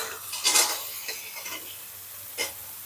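Potatoes and jackfruit seeds fry with bitter gourd in a pan, a soft sizzle broken by a few sharp spatula scrapes and clinks against the metal, close up and with no one talking.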